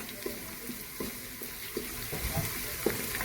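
A spoon stirs spices into onions frying in a pan for a pumpkin sabzi, giving soft repeated scrapes and taps over a low steady sizzle, close by and fairly quiet.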